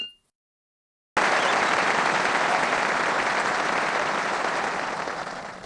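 After a moment of silence, a crowd at a presidential victory speech about the Iraq war bursts into loud, sustained applause that begins abruptly and slowly tapers off.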